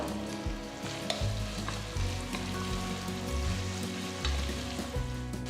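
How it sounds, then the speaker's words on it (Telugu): Three large onions, thinly sliced, fry in hot oil with green chillies for a gongura chicken biryani, giving a steady, close sizzle with occasional stirring scrapes and no talk. "ఉల్లిపాయలు ఒక మూడు పెద్ద ఉల్లిపాయలని ఇట్లా సన్నగా తరిగి నేను వేస్తున్నాను"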